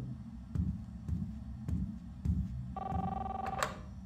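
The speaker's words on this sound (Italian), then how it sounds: "Telefono." Phone ringing in the Life is Strange video game, a series of evenly spaced electronic rings with a brighter trilling tone entering near the end, over a low background hum.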